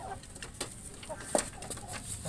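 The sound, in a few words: chicken clucking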